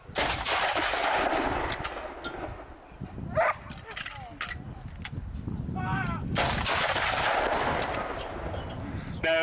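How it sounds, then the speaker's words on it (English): A World War 2 artillery gun at a Hastings battlefield reenactment fires rounds in quick succession, each a loud outdoor boom with rolling echoes, while people talk nearby. "the 3 rounds will be fired off in quick succession"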